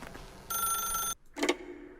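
A telephone rings in the video game The Stanley Parable: one loud electronic bell burst, a short gap of silence, then the start of a second ring, with no talk.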